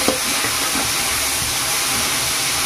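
Slit green chilies and garlic fry in a pan, giving a steady, close, loud sizzle and hiss that stays even throughout with no pauses.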